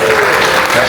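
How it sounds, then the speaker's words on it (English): A conference audience at a tech event claps steadily through a brief burst of applause, dense and fairly close, with a voice faintly mixed in. "So give yourself a round of applause."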